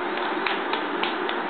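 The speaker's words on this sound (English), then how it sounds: "Clap hands" A toddler claps her hands, giving four soft, evenly spaced claps over a quiet indoor background hiss.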